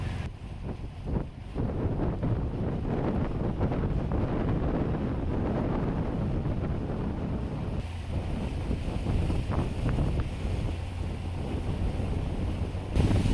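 A refurbished speedboat engine at full throttle, struggling and failing to rev up cleanly, drones steadily and loudly for the whole stretch amid heavy wind buffeting and water rush.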